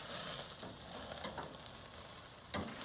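Food sizzling and frying on a covered outdoor grill, a steady broadband hiss with faint crackles and a louder pop near the end, close and continuous with no talking.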